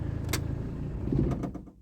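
A 2003 Fiat Doblo 1.9 diesel engine idles steadily after starting, a low continuous rumble heard close up with a brief mechanical click partway through and no talking.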